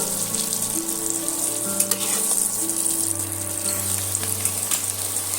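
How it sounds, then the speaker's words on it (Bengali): Potato pieces coated in turmeric fry in hot oil in a pan, a steady, even sizzle and crackle running continuously throughout, close and moderately loud, with a low hum beneath and no voices. "এইভাবে আমি পাঁচ মিনিটের মতন আলুগুলো ভাজা করে নেব"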